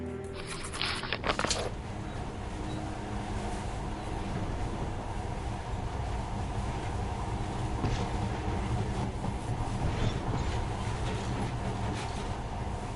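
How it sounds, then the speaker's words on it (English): A monorail train in Metro Last Light rumbles along continuously at a low, steady level, with a brief brighter burst near the start and no talking. "this monorail seems magic, doesn't it?"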